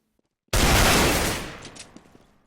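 A single loud burst of gunfire in CS:GO during a Mousesports versus E-Frag.net competitive match, a sharp onset then a ringing decay over about two seconds with faint clatter trailing off.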